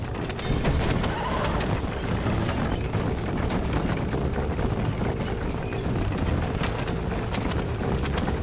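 Horses in a Red Dead Redemption wagon chase, galloping hooves and occasional neighs under a dense, steady wash of game action noise, continuous and loud throughout.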